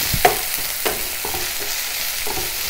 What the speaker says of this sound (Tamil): பச்சை வடை நீங்கின பிறகு நம்ம இந்த அரிசியை சேர்த்து ஒரே ஒரு நிமிஷம் இதில் ரோஸ்ட் பண்ணிக்கலாம்